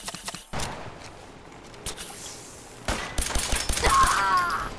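Pistol shots in the video game Fallout 4, several sharp cracks with a rapid burst of fire building toward the end amid game noise.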